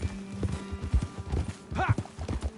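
Horse hooves in a video game clip-clop in a steady, uneven rhythm close by, with a brief whinny partway through and low background rumble.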